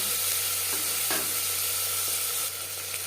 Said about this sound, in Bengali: পেঁয়াজ টমেটো হালকা করে ভেজে নেব